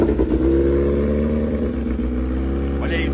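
Kawasaki H2R motorcycle with Feltec engine management and an extended swingarm, its engine running at a steady high idle with a throaty, harmonic drone, close and loud throughout.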